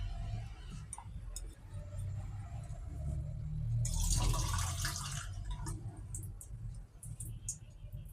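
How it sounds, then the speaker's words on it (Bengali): Water poured into a pan to start a sugar syrup for mal pua, a steady broadband splash building and swelling mid-clip before tapering, close and moderately loud over low kitchen rumble. "জল দিচ্ছি।"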